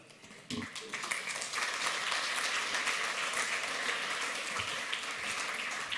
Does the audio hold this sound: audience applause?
yes